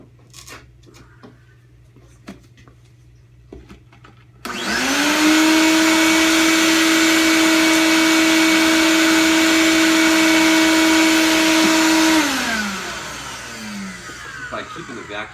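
A vacuum cleaner used during antique window restoration switches on abruptly after quiet shuffling, holds a loud, steady whine for about eight seconds, then winds down to faint handling noises.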